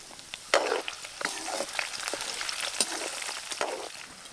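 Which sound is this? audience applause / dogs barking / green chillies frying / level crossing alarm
green chillies frying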